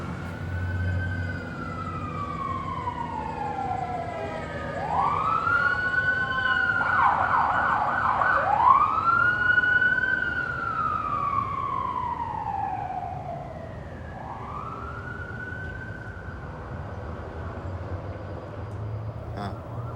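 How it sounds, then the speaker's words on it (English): Sirens wail loudly with rising and falling sweeps, several overlapping as emergency vehicles pass nearby in South Los Angeles, over steady low traffic rumble. "Sirens, huh? How about if they're going on all night and all day?"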